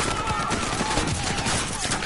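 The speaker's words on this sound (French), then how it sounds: "Putain, les escrocs, ils tirent." Gunfire erupts in a Call of Duty Modern Warfare campaign scene: dense, continuous bursts of rifle and automatic weapon shots crackle loudly and steadily, with faint voices mixed into the chaotic battle noise.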